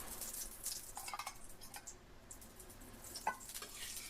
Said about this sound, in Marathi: आता आपल्याला तेल टाकायचं त्यामध्ये